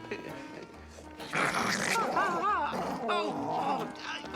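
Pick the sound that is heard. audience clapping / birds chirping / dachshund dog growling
dachshund dog growling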